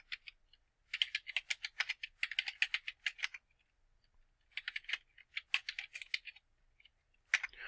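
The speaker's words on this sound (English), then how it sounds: "I'm just typing in rando commands" Quick bursts of typing on a computer keyboard while entering login commands, clattering keystrokes in rapid runs separated by short pauses, close and fairly quiet with no talking.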